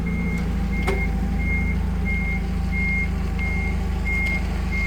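A 2022 Toyota 02-8FGL25 gas/petrol forklift reverses, its backup alarm sounding evenly spaced beeps over a steady engine drone, loud and close.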